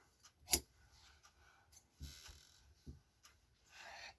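Quiet snips and crisp clicks of sharp shears cutting out a fell in fabric, a few separate cuts with soft rustling between them.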